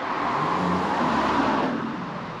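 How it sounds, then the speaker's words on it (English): A car passes close by on the road, a smooth rising and fading whoosh of tire and engine noise that swells through the middle and tapers off, heard alone. "Another car coming."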